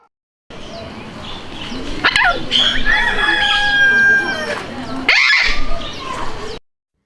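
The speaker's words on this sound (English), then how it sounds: "P for parrot." Cartoon-style animal calls, a squawking parrot among other bird and dog-like cries, sound loud and close over a bright children's phonics song background, with sharp repeated squawks standing out.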